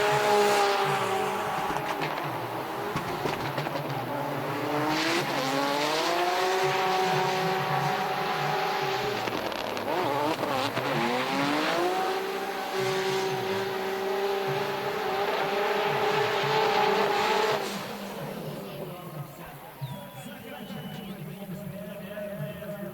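A drift car at a Russian Drift Series Grand Prix round in Vladivostok screams at high revs with rising and falling engine pitch and tire squeal through a long run, then fades; a commentator talks over it.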